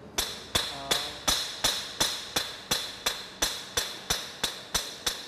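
Sharp metallic hammer strikes on an anvil ring out one after another in a steady, even rhythm, about two per second, each clang bright and close with a short ringing tail.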